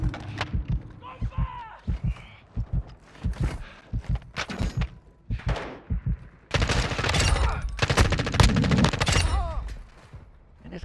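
Video game gunfire in a squad firefight: repeated sharp shots in quick bursts, then a dense sustained volley near the end, loud and close with brief spoken callouts mixed in.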